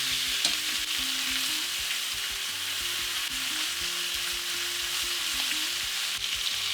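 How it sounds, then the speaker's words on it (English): Chicken drumsticks searing in hot vegetable oil in a pan, giving a steady, close, crackling sizzle that holds evenly throughout with small pops and no voices. "Once the oil is hot, start searing the drumsticks. You want to hear that sizzle."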